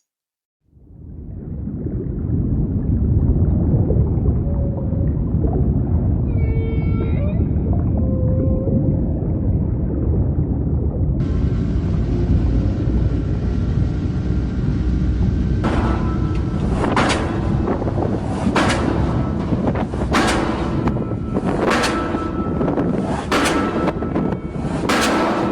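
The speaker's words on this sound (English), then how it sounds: "let me play you a short clip of what underwater noise pollution can sound like" Underwater noise pollution recorded below the surface: a loud, constant low rumble of machinery, with a brief whistle-like tone early on and, later, a series of sharp repeated impulsive bangs over the drone.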